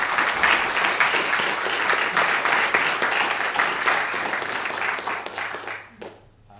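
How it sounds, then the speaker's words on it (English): Audience applause for the jurors at a space engineering challenge final presentation, steady dense clapping filling the room for about six seconds before fading out quickly at the end. "Everyone, please give them a round of applause."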